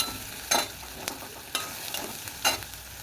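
A spoon scrapes through mixed lentil curry in a pan after water is added, in four or five distinct, evenly spaced stirring strokes over a soft, steady sizzle, with no talking.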